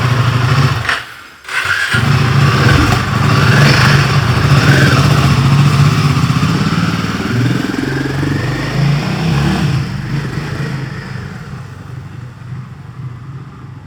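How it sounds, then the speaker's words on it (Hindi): A motorcycle whose spark plug has taken on water starts after a brief stutter, then runs loud and close with an uneven, misfiring idle and occasional surges that gradually settle and fade, with no talk. "अभी ऐसे ही रुक रुक के स्टार्ट हो रही है, मिस मार रही है"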